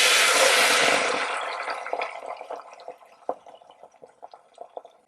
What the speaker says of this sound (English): And then let's pour the eggs in